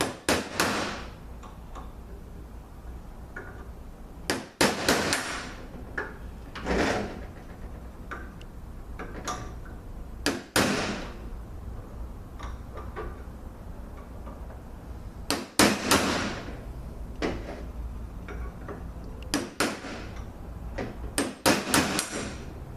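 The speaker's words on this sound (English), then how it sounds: "we're going to knock this bushing out" Sharp metallic hammer blows knock a bushing out of a 722.6 transmission pump, coming as scattered single strikes and quick clusters with pauses between, close and loud against a quiet workshop background.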